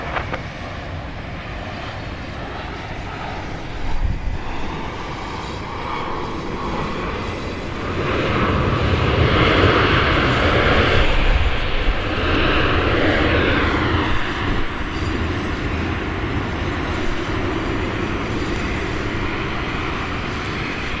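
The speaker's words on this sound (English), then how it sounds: "That was Southwest Flight 4088 coming in from Midland, Texas. 737-700, a plane which is 18 years old." A Southwest Airlines Boeing 737-700, 18 years old, lands at Dallas Love Field, its engine roar swelling to a loud broadband rumble as it passes nearby, then settling into a steady wash.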